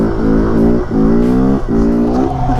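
A motorcycle engine revs hard during a wheelie, loud and close, its pitch climbing in three or four surging pulls with brief dips between throttle bursts.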